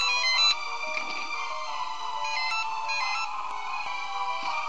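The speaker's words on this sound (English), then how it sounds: "Ignore that phone, just going off." A phone rings with a sustained electronic ringtone melody over faint game background sound during a Final Fantasy 3 playthrough, steady and fairly quiet throughout.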